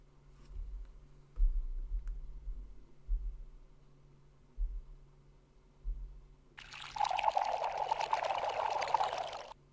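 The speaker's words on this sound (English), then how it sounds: "you cleverly pour bottle after bottle of Sam Andreas's St. Louis brew into the dusty road" Beer from bottles of Sam Andreas's St. Louis brew pours onto a dusty road in the Freddy Pharkas frontier adventure game. Quiet low thumps come first, then a sudden, steady, splashing pour takes over for the last few seconds.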